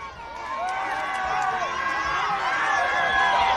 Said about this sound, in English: The crowd sparks up.